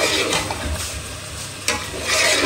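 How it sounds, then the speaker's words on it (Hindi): Chicken, chickpeas and potatoes frying in Sindhi masala give a steady close sizzle, with stirring scrapes across the pan and one sharper scrape near the end. "अब इसकी अच्छे से भुनाई होनी है और इसमें ही चिकन गल जाएगी"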